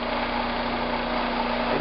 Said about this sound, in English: Now we're starting to grind just in the middle, right where we want it.